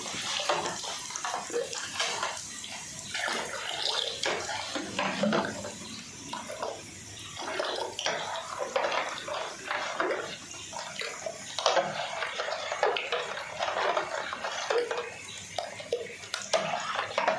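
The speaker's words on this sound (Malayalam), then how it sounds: "തൈരിൽ നമ്മൾ ആവശ്യത്തിന് വെള്ളം ചേർക്കും" Water splashes and trickles steadily into thick curd in a container, close by, with scattered clinks and small knocks, no voices.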